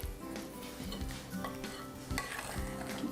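A spoon stirs a mixture in a bowl with steady, continuous scraping and soft clinks, close up and moderately loud, with no voices.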